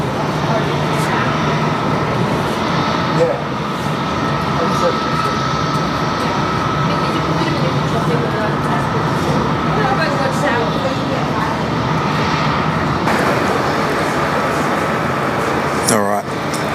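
A Qantas airliner taking off from runway 06 at Perth Airport, a loud, steady jet-engine roar that holds throughout, heard at a distance under radio-style talk.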